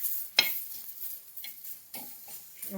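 Onion roasting in a little oil in a pan, a faint low sizzle with a sharp utensil clink early on and a few soft scraping stirs, quiet and close, no voices.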